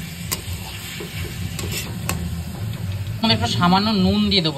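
Tomato, capsicum and chili sautéing in a pan for a Kolkata-style chicken curry make a steady sizzle with intermittent stirring clicks, while someone talks over it throughout, her voice prominent toward the end.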